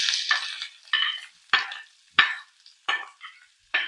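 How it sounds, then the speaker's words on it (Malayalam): Cumin, curry leaves, ginger and onion sizzle in hot oil, with about six sharp crackling bursts and spluttering pops that quickly fade, and no voices. "ഇത് ജീരകം, കറിവേപ്പില, ഇഞ്ചി, ജീരകമൊക്കെ നന്നായി പൊട്ടിക്കഴിഞ്ഞു"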